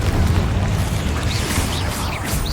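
Spell explosion in the video game Hogwarts Legacy: a deep, rumbling blast with heavy low-end boom and crackling debris, loud and sustained over the whole moment.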